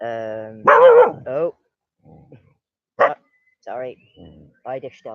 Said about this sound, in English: That's my dog barking at a little child.